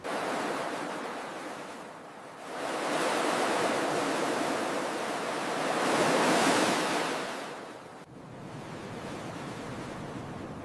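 Big ocean waves break and surge in a continuous roar of surf that swells in two long crests, then drops sharply before rising again, loud and close with no voices.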